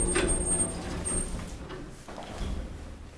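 Old KMZ traction elevator in Riga with original Ozolciema doors sliding, a rumbling, rolling door movement with a soft thud, close and fairly loud, no talking.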